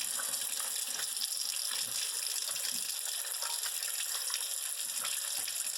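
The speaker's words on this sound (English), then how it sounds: "So just rinse the sink a bit." A tap runs steadily into a sink as it is rinsed out after dyeing with a DIY dye pot, a constant close rushing gush with faint clatter underneath and no talking.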